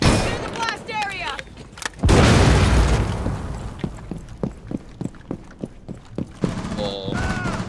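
A breach charge detonates in Rainbow Six Siege with a sudden loud boom that rolls off into rumbling debris, followed by a run of sharp rhythmic thuds and clicks, with voices talking around it.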